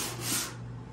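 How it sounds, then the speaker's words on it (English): A short, soft rasping stroke of sandpaper rubbing across wood, heard up close and fading after a moment. "just use a sanding block and take some of it off"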